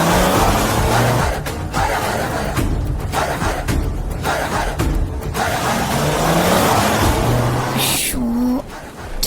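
A car stuck in a pothole on a rough road, its engine revving and straining in loud bursts with tyre noise, brief pauses between pushes, and a short whine near the end.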